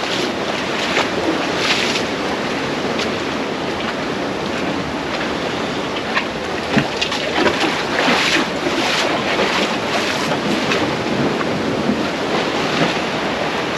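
A boat moving through open water near Little Bay, with steady broadband wash of water and wind buffeting the microphone throughout, a continuous loud rush with slight surges and no voices.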